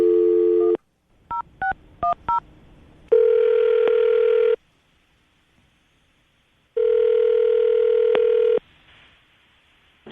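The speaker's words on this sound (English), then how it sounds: "I'm going to dial the phone number right now" A phone number is keyed in as a quick run of separate touch-tone beeps, set between long steady dial or ringback tones, with a dead quiet stretch between them; clear and close, with no voices.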